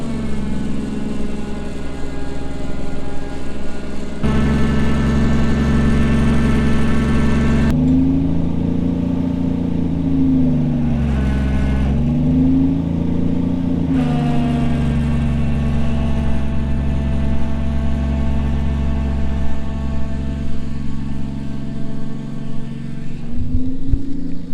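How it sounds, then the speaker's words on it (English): A 1949 White tractor engine pulls a tree down with chains and a cable, a loud, close, low diesel drone that holds steady, then strains and revs up and down before settling again, with no talk. "we got our tractor here, got our chains hooked up, got a cable running all the way over there"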